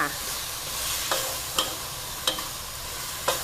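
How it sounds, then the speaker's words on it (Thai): Shrimp stir-fried with pepper in a pan before cashew nuts go in: a continuous close sizzle broken by four or five crisp spatula strikes against the pan, spaced irregularly. "ผัดค่ะ"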